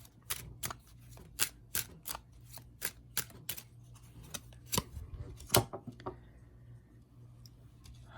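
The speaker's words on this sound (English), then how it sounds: "So I'm going to pick a card now from a Kipper deck." Cards being shuffled and drawn from a Kipper fortune-telling deck, a run of sharp, close riffling snaps in a quick rhythm, then a few scattered flicks and slides as cards are laid down.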